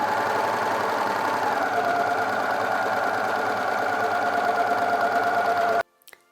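A sewing machine hums steadily and loudly while stitching around the armhole of a hook-and-eye top, then stops abruptly near the end and a few faint clicks follow.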